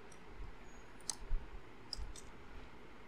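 A computer mouse clicks a few times, sharp and faint, spread out over a low room hum with no one talking.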